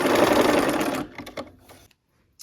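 A sewing machine runs fast, joining quilt block sections for a Wild Goose Chase quilt, loud and close for about a second before slowing to a stop with a few clicks.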